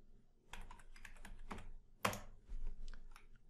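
A password typed on a computer keyboard: a quick run of soft, close key clicks with a sharper press near the middle, then a few more taps.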